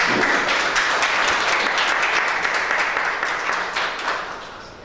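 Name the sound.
congregation applauding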